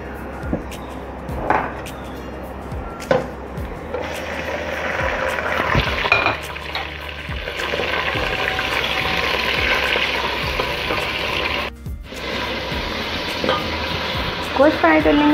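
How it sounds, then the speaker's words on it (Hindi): Mutton frying and being stirred in a pot with light-browned onions, a steady close sizzle running throughout with repeated scraping stirs and occasional clinks of the spoon against the pot. "गोश्त फ्राई कर लेंगे हम अच्छी तरह से इसमें।"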